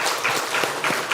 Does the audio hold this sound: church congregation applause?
yes